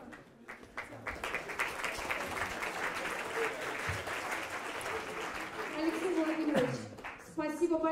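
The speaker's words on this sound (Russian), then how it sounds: "Наши аплодисменты." Audience applause at the end of a lecture in Smolensk: dense, sustained clapping from a large hall crowd fills the whole stretch, with a voice speaking briefly near the end.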